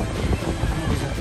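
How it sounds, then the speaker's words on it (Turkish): Wind buffets the microphone in a steady, rumbling low roar, with gusty swells throughout. "Çok rüzgar var ama bugün."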